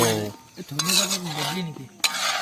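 A mixed fry is stirred in a pan at a picnic cook-out, with a spoon scraping and clattering against the metal over a soft sizzle, close up. A voice is heard in the background.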